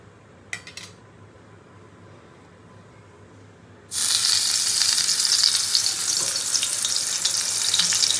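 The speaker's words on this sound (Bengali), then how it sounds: "তেল তো গরম হয়ে গেছে, আগে পটলটা ভেজে নেব।" Pointed gourd (potol) slices frying in hot oil, a loud steady sizzle that bursts in suddenly after a few quiet seconds with faint utensil clinks, then continues unbroken to the end.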